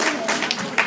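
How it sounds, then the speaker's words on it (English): Audience applauds as scholars take their seats, a brief burst of dense clapping with a voice speaking over it. "let's give them a round of applause as they take their seats"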